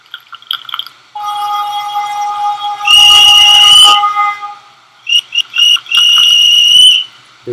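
A loud, shrill train whistle in a Roblox railway game blows in long sustained blasts, with a few short toots before and between, over a faint rumbling background.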